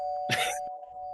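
A doorbell in a podcast studio gives one short bright chime over a steady electronic hum, then goes quiet.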